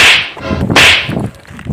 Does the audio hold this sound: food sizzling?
no